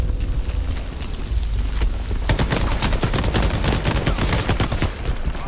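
Dense automatic gunfire from teammates in the video game Shatterline, a near continuous stream of rapid shots that grows heavier and more crowded partway through, with no speech.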